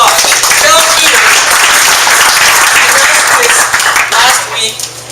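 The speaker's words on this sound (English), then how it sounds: "Give Sal a big round of applause." Audience applause at a GNA community launch event in Modesto, a dense, loud wash of many hands clapping that continues steadily and thins slightly toward the end.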